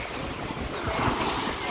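Wind and sea waves on Playa Blanca beach in Tangier at night form a loud, continuous roar of gusting wind and surf with no clear break.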